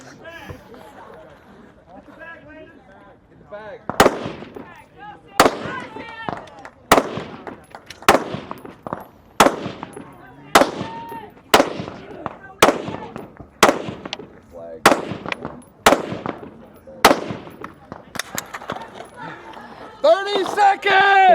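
Sharp pistol shots ring out one after another in a steady series of about a dozen cracks during a regional elite men's shooting-sport race stage, with commentary running underneath.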